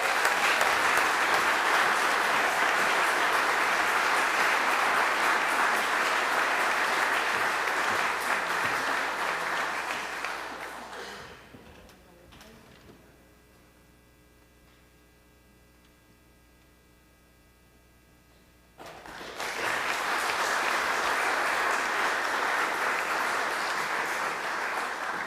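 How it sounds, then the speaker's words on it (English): Loud applause from an audience at an evening awards ceremony for Ethic of Service honorees, sustained broadband clapping that cuts out for several seconds of near quiet with low hum, then resumes at full strength. "can all of us give the loudest round of applause for our honorees this evening"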